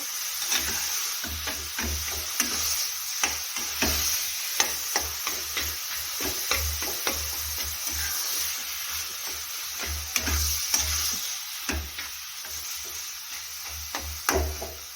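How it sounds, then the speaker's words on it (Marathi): Minced meat with onion and tomato is stirred and mixed in a pan, with regular knocking and scraping strokes of a spatula over a faint sizzle, close by and with no voices. "असं सर्व मिक्स करून घ्यायचं कांदा टोमॅटो खिमामध्ये"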